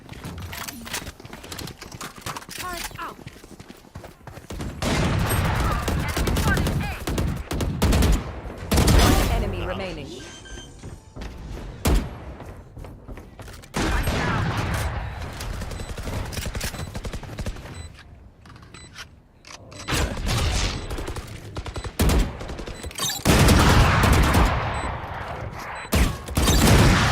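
Video game turret firing in rapid bursts, sharp crackling volleys coming and going over several stretches, mixed with game sounds and a voice talking in between.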